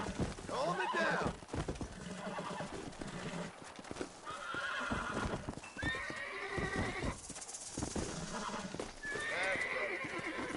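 In the Red Dead Redemption video game, a horse whinnies several times while its hooves clip-clop steadily, with a voice talking over much of it.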